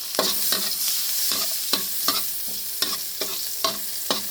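Garlic and ginger sauté in margarine in a pan, a close steady sizzle broken by about a dozen sharp, rhythmic scrapes of a utensil stirring, with no talking.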